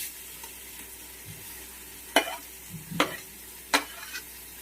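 Sliced onion and green chili fry in hot coconut oil with a soft background sizzle, broken by three distinct scraping stirs of a spatula against the pan.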